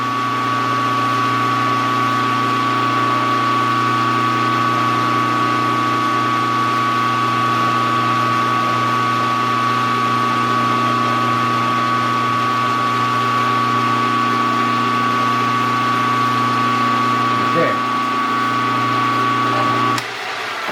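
A small homemade steam engine runs steadily near the microphone, producing a continuous mechanical hum with a bright sustained tone, unbroken for the whole stretch apart from a slight change near the end.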